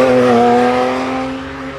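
A Porsche GT3 RS race car on a circuit, its engine note holding a loud, steady high tone as it sweeps past close by and then starts to fade, with no talking.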